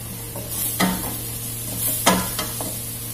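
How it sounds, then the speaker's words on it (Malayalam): Onion, ginger and garlic fry in a pan under a soft sizzle, broken by two sharp scraping stirs of a utensil against the pan and a few lighter clinks. "ഉള്ളി, ഇഞ്ചി, വെളുത്തുള്ളി കൂടി എല്ലാം കൂടി നന്നായിട്ട് ഫ്രൈ ആയിട്ടുണ്ട്."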